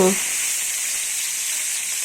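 Loud, steady sizzling of chopped onions frying in hot oil, a constant bright hiss after a brief voice at the start.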